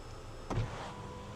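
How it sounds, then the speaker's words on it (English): A short, faint electric motor whir with a soft mechanical thump comes from the Jetour T1 SUV's sunroof as it starts opening by itself, heard alone in a quiet cabin. "Open the sunroof."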